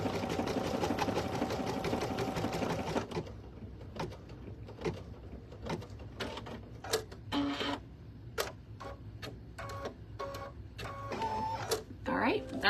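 An embroidery machine stitches out an applique design with satin stitching, a steady mechanical chatter for the first few seconds and then a run of quicker, irregular needle taps and clicks close by.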